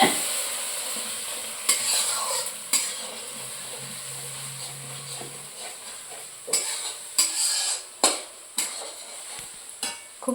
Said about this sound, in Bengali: দেখো আমাদের বাড়িতে রান্না হচ্ছে।